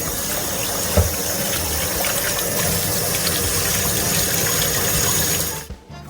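Rice is washed and rinsed under running tap water in a sink: a continuous, close gush of water with a small knock near the start, cutting off just before the end.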